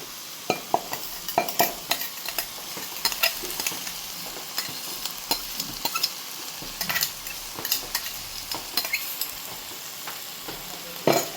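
Crushed beef samosa filling stir-fried in a pan, continuous sizzle broken by frequent scraping and clattering strokes of a spatula against the pan.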